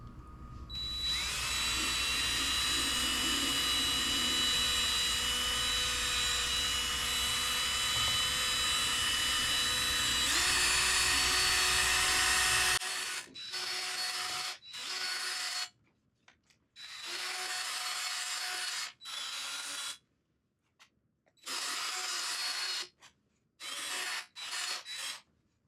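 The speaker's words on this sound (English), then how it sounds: "Now we'll switch over to the white P800 sanding disc." A 3M white P800 sanding disc on a drill working a foggy headlight, a steady high whining grind for about thirteen seconds, then repeated short bursts of sanding separated by silence.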